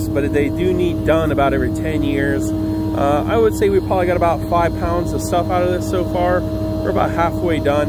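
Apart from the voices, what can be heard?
truck-mounted air duct cleaning machine and truck engine running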